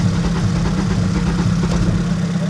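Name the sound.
car engine running in a garage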